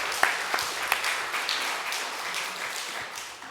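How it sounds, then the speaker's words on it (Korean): Church congregation applauding during a Korean worship service, a steady wash of clapping from many hands with a few sharper claps standing out, moderately loud and sustained throughout. "하나님께 영광의 박수 돌려드리겠습니다"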